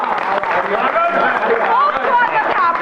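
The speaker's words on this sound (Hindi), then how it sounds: "तालियां।" Classroom applause welcoming two new students at a village English lesson: a dense, steady patter of many hands clapping throughout, with a person speaking a greeting over it.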